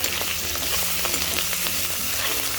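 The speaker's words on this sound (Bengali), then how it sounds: "আবারও নাড়িয়ে চাড়িয়ে নিচ্ছি।" Pangas fish with salt and turmeric sizzles steadily in hot oil while being stirred, a continuous close frying crackle with faint scraping, no voices.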